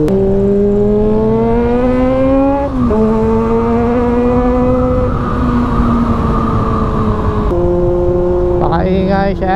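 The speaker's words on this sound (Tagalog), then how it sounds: "napakaingay talaga na itong motor na to. This is a Honda CB400" A Honda CB400 PB1 motorcycle engine revving loudly up close, its strong harmonic drone rising and dipping through several throttle blips with a sharp rev spike near the end, sometimes under nearby talk.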